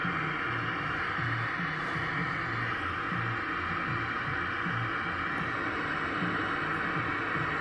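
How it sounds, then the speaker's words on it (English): Steady broadband hiss from a Toshiba CRT television showing static with no video, its flyback and high voltage running, holding constant and fairly loud under a low hum with faint irregular rumbling. "the static is good."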